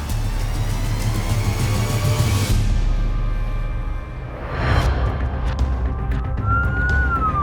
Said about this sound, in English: Under lights and sirens, Taz and Amanda are rushing diabetic patient